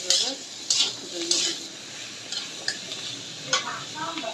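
Masoor lentils fry in a pan, a soft continuous sizzle broken by repeated spatula stirs and scrapes against the metal, moderately close, with no one talking.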